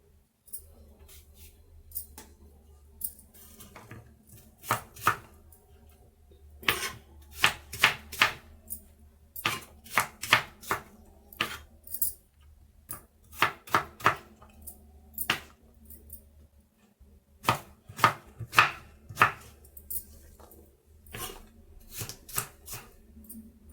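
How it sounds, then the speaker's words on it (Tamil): An apple is chopped into small pieces on a board, with sharp knife strikes in quick bursts separated by short pauses, close and fairly crisp. "இப்போ வந்து நம்ம பொடுசாக கட் பண்ணிவிட்டு ஒரு மிக்சர் ஜாரில் சேர்த்துக்கலாம்."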